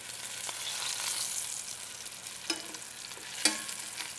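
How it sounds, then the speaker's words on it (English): Short ribs browning in a hot pan give a steady close sizzle with occasional stirring scrapes, and no one speaks over them. "So that's what we're doing, we're browning them."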